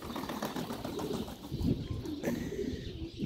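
Pigeons coo softly and steadily in an aviary, with faint rustling from the birds and no voices.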